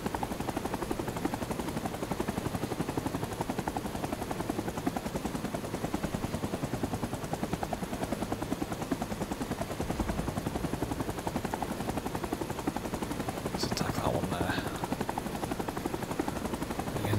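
Helicopter strafing run in the video game Rising Storm 2: rapid, continuous machine-gun fire over the steady rotor chop, sustained and loud throughout, with a brief burst of extra noise near the end.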